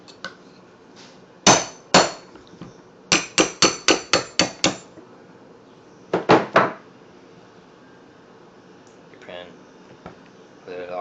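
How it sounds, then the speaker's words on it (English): Hammer striking a steel punch to drive out a pin on a Hi-Point C9 pistol: sharp metallic taps, one early, then a pair, a quick run of about seven, and a closing cluster of three, close and crisp. "punch, hammer."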